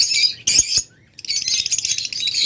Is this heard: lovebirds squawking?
yes